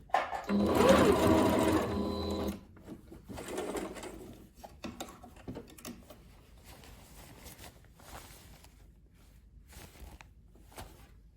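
A sewing machine stitches a pants waistband in a loud, buzzing run for about two seconds, then carries on in fainter, intermittent bursts.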